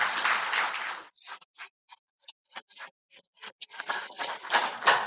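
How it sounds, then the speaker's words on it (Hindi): A satsang gathering claps together, a burst of group clapping, then scattered separate claps in a pause, before the clapping swells back into a fuller round. "एक बार अब ताली बजा लें"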